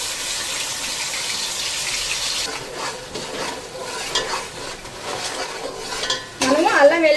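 Ginger garlic paste fries with a steady, loud sizzle in a pan for a biryani, with repeated scraping of a spoon stirring it and a sharp clatter of metal cookware near the end.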